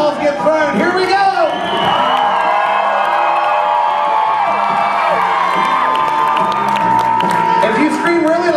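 A large audience at a juggling show screams, cheers and whoops continuously, a loud dense crowd roar with shouting children and scattered clapping throughout.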